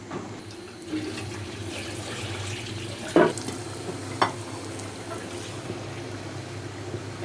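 Water is poured into a cooking pan with thickened garlic while beguni (eggplant fritters) are being made, giving a steady rushing hiss with two brief clinks partway through. No one speaks.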